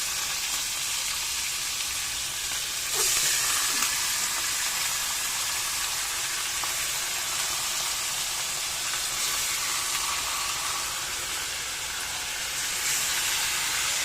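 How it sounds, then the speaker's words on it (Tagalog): Chicken pieces and onion sizzle in a hot pan, a steady broadband hiss of frying oil that swells slightly as the meat goes in and carries on evenly throughout, with no one speaking. "Ngayon ay ilagay na natin ang ating chicken."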